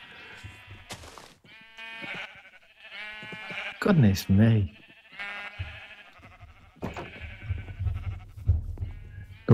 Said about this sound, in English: there's the multicolored rainbow sheep farm